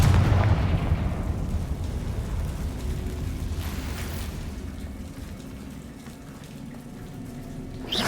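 A Confringo blasting spell explodes in Hogwarts Legacy, opening with a heavy low boom that settles into a long rumbling, crackling roar fading slowly over several seconds.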